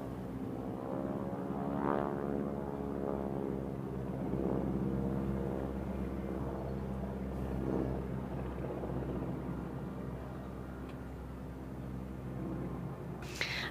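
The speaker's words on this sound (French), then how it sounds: "Aux commandes de ce biplan, Emiliano Del Buono." A biplane flies overhead with a steady propeller drone, its engine note rising and fading as it passes at moderate distance, fairly faint and alone without voices.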